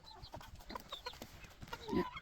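Chickens cluck in short, scattered bursts nearby outdoors in cold weather, with a few louder squawks near the end and no talking.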